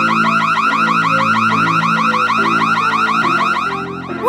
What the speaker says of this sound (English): Why did the alarm go off?